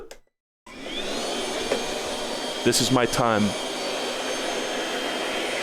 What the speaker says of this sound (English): Vacuum noise incoming.